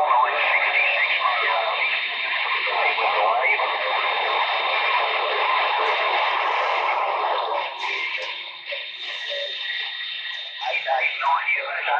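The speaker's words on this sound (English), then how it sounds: "there's too much static and the skip is so low" Static crackles on an 11-meter CB radio, a continuous band-limited hiss with faint, garbled voices breaking through, loud and steady before thinning out near the end.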